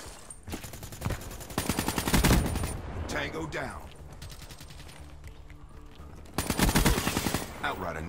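Automatic gunfire from Call of Duty: Black Ops 3 beta multiplayer, two loud sustained rapid bursts with quieter game effects between them, no talk heard.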